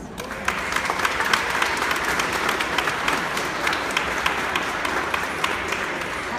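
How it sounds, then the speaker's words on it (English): A crowd at a business reception in Oakland applauds steadily, a dense even wash of clapping filling the room for several seconds with no speech. "you all need to give a round of applause to"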